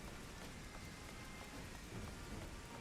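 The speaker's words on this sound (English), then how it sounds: "because it's raining" Steady, dense rain pours in the Final Fantasy XIV game world, with a low thunder rumble underneath and no voices.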